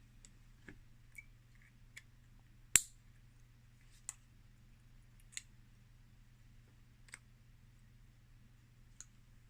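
Small scissors snipping excess cotton wick on a Kayfun V4 clone rebuildable atomizer coil, a few light, sharp isolated clicks spaced apart against a quiet low hum, one cut noticeably louder than the rest.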